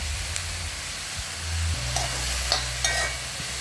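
Chopped brinjal with onion and green chilli fries in oil for a theeyal, a soft steady sizzle and hiss with occasional stirring clinks and scrapes, close but fairly quiet.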